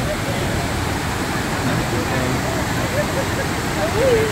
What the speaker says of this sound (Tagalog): So, this is what they call Aliwagwag Falls.